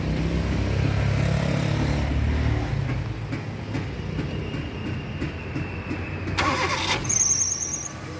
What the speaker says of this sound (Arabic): كده العربية دارت تمام